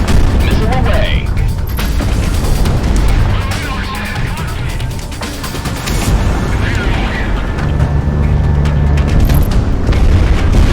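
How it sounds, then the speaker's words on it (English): Missile launch and explosion in the flight combat game Project Wingman: deep booms and a rushing blast over a steady roar of jet engine and combat noise, with radio-style voices heard in the mix. "I've got a lock. Missile away."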